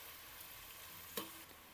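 Finely chopped onion sautés in plenty of hot oil, a faint, steady sizzle with a single soft clink partway through, quiet and alone.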